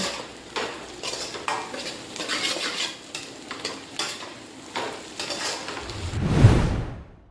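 Beans, carrot and cabbage stir-fried in a pan for restaurant-style veg noodles, a steady sizzle broken by repeated scraping and clattering spatula strokes, close and fairly loud, ending in a sudden burst of hissing.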